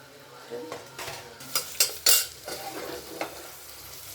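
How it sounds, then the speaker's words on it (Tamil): One large onion frying in a pan for a meat curry, stirred with a utensil: soft sizzle underneath, with several sharp scraping clinks of metal against the pan, close and clear. "ஒரு வெங்காயத்தை நல்லா பொன்னிறமாக வர வசக்கணும்"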